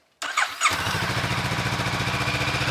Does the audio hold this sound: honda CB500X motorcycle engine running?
yes